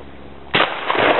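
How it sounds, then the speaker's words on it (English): A single sharp gunshot fired at a target outdoors, a loud abrupt crack after a short quiet lead-in, with a brief tail. "Alright, I'll shoot that."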